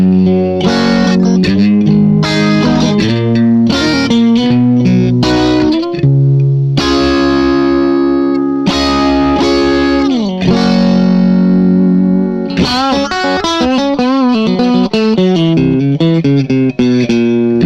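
Electric guitar overdriven through a Neurocyton preamp pedal, playing chords and melodic lines with reverb, loud and continuous, with sustained notes and sliding phrases.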